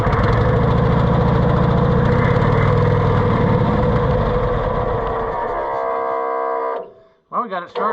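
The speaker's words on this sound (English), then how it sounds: "we got it started without ether that time" A Cushman Truckster engine with a carbureted setup starts and runs at a steady loud chugging idle, its tone shifting briefly before cutting off, then a short voice follows.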